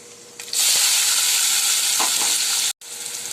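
Onions drop into hot oil already crackling with whole black pepper, cloves, cinnamon, fenugreek seeds, urad dal and cumin, setting off a loud, steady sizzle that holds for about two seconds and then resumes after a brief break.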